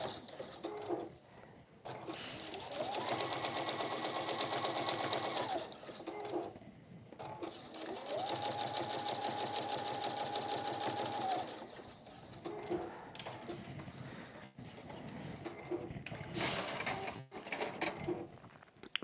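A sewing machine stitches a textile hexie needle keep in two long continuous runs, a close whirring, rattling hum with quieter handling noise between and after the runs.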